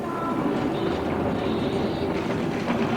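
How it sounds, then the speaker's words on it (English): A dilapidated train of boxcars running between Phnom Penh and the border in Cambodia, giving a steady rumbling rattle of wheels and cars at moderate level with faint higher squeals, no voices. "the train, a dilapidated contraption of boxcars, which carry people from Phnom Penh to the border"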